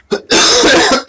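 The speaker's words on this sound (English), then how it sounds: "The coughs are coming." A burst of harsh coughing, one short cough followed by a longer rough fit, loud and close, with another cough starting at the end.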